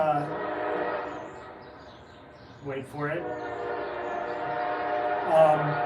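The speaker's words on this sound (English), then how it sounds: "sorry for the train." A passing train sounds its horn in two loud, brassy blasts at an outdoor skate session, with rumbling rail noise around it and people talking before and after.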